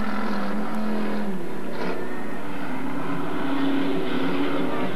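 Dirt track race cars roaring past on the final lap at Magic City Speedway in Billings, Montana, a loud sustained engine drone swelling and fading as they pass, no talk over it.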